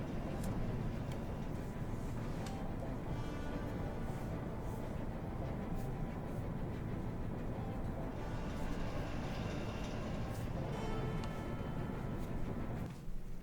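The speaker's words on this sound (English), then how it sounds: "So this train ride's almost over" Continuous loud rumble of a train ride in the Star Wars: Shadows of the Empire game, a dense rolling roar with rattling clanks layered on top throughout, and faint talk now and then.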